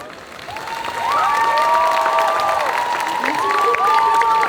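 Audience applause at a solo cosplay contest at a Japan-culture convention, a dense steady wash of many hands clapping that swells after the first second and holds, with a host's amplified voice and music tones running over it.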